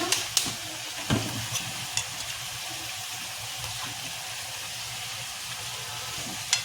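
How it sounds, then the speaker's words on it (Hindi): A butter chicken mixture with a little water is stirred in a pan on a gas stove, giving a steady close sizzle broken by occasional scraping clinks of the spoon. "इसको मिक्स कर लीजिए कि गैस पे चढ़ा दीजिए।"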